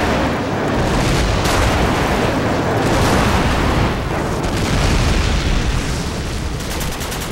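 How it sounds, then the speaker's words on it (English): Airstrike explosions in a war video game roar continuously, heavy booms and rumbling blasts overlapping into a dense, loud wall of noise. "Friendly airstrike on the way"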